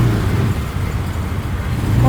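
Road traffic on an airport road with cars and other vehicles idling and crawling in a jam, a dense, steady low engine rumble heard up close.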